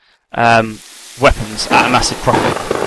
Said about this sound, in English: I apologise for the rain sounds, they're incredibly annoying